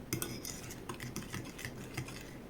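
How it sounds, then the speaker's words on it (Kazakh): A spoon clinks and scrapes against a bowl as cheesecake batter with butter, sugar and baking powder is stirred, making quiet, irregular tapping and scraping strokes, close by but faint. "Жақсылап араластырып,"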